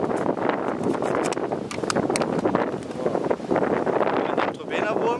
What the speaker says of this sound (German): Der Wind peitscht hier ziemlich.